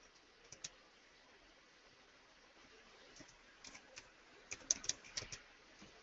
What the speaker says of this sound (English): Let me type everything.